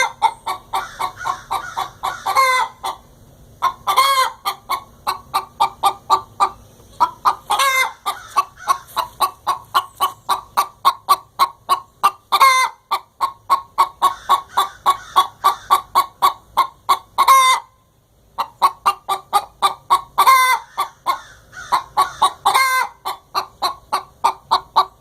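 Chickens cluck continuously inside a backyard coop, rapid repeated clucks in steady bursts with occasional louder squawks, close and loud, no talk.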